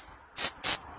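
Two short, sharp hissing bursts of lubricant sprayed onto lug nut threads, close and crisp, separated by a brief pause.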